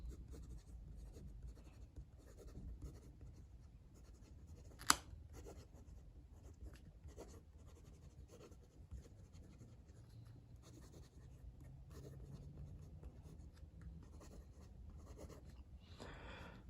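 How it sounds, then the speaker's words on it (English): Steel-nibbed Waterman Carene fountain pen scratching faintly across paper in slow strokes with a dark brown-green ink, soft and close, with a single sharp tap partway through and no talking. "Let's do a writing sample."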